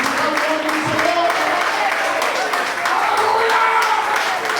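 A church congregation applauds during a prayer circle, a dense, loud, continuous wash of clapping with voices mixed in.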